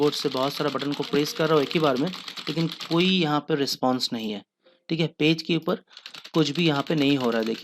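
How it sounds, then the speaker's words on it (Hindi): Many computer keyboard buttons are pressed at once, a rapid clatter of key clicks running under and between someone speaking Hindi. "मैं कीबोर्ड से बहुत सारा बटन को प्रेस कर रहा हूँ एक ही बार में"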